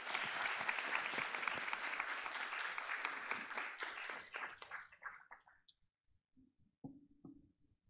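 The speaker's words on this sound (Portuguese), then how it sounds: "eu queria também dar palmas a você" Applause for a photographer at a launch of a popular-photography magazine, a dense wash of many hands clapping that thins and fades out, leaving a few scattered claps and faint murmurs at the end.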